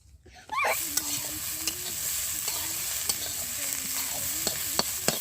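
Onion stalks frying and being stirred in a pan with chopped tomato, a steady sizzle broken by repeated scraping strokes of the spatula, close and continuous after a brief quiet start.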